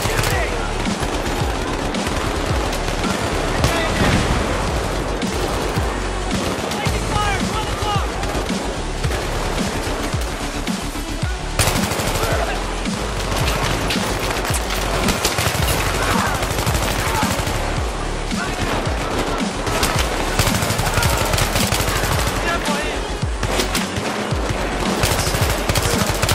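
Sustained, dense automatic gunfire in the Battlefield 3 video game: rapid machine-gun bursts and shots fill the whole stretch at steady high loudness, with shouted voices occasionally mixed in.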